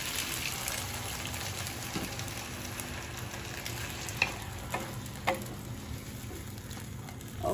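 A chicken and vegetable stir fry sizzles steadily in the pan after water is added, a continuous hissing crackle with a few sharper pops and stirring clatters toward the end.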